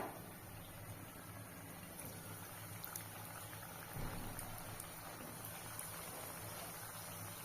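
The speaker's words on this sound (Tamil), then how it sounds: "எண்ணெய் நல்லா சூடாயிடுச்சு இப்போ இது கூட நம்ம செஞ்சு வச்சிருக்க கட்லெட்டை ஒன்று ஒன்றா சேர்த்துக்கலாம்" Soya (meal maker) cutlets frying in hot oil over a medium flame, giving a faint, steady bubbling sizzle with light crackles throughout, no voices.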